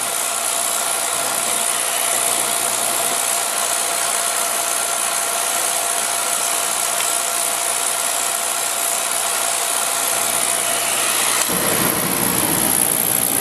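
A Beckett oil burner runs with a steady, loud roaring hum and a constant high buzz, then shifts abruptly near the end as its tone changes.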